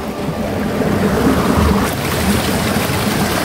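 Clear water rushes steadily along a village ditch in South Bandung, West Java, making a loud, continuous broadband wash with some wind buffeting the microphone.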